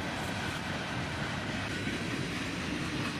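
A freight train rolls by as an old boxcar passes, a continuous dense rumble of wheels and rattling cars close to the microphone.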